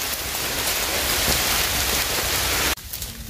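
Steady heavy rain pours down on a day of mushroom picking, a dense close hiss lasting nearly three seconds before the sound drops sharply to quieter patter.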